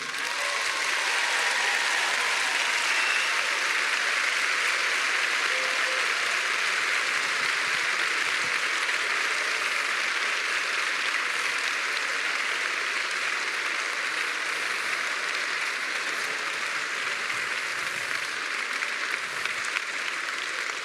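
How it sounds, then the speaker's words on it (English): A large audience at an EDHEC Business School graduation ceremony gives a long, sustained round of applause for families and parents, a thick continuous roar of clapping that holds steady for about twenty seconds. "express your gratitude to your family, to your friends, and especially to your parents, because we all know that you owe very much to your parents, with a very big round of applause"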